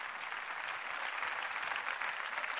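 Studio audience applause at a Greek satirical television show, a dense, steady wash of many hands clapping that holds at an even level throughout, with no voices over it.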